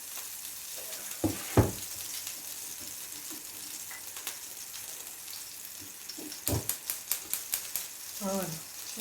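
Meat pastries (sfiha) fry in a pan with a steady crackling sizzle, broken by a few louder clatters and a quick run of tapping knocks near the end, with no one talking.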